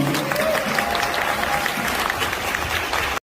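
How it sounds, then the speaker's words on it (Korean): Wedding guests applaud the bride and groom at a ceremony in Daegu, a steady wash of clapping from a crowd that holds for about three seconds before stopping abruptly. "새로운 출발선에 있는 우리 아름답고 멋진 신랑 신부에게 다시 한번 뜨거운 박수 부탁드립니다"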